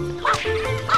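A cartoonish puppy in Ice Age 2 gives two short, high yips about half a second apart, close and clear over faint game background sound.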